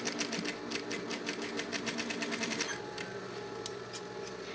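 A sewing machine runs in a quick, steady burst of close stitching on synthetic fabric for a single-opening school pencil case, with a short reverse stitch, then slows and stops, leaving a faint hum and a few light clicks.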